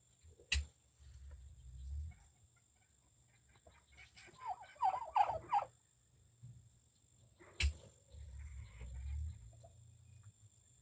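Turkeys on a homestead let out a quick burst of gobbling in the middle, moderately close, amid quiet low rumbling background and a couple of sharp knocks, with no talking.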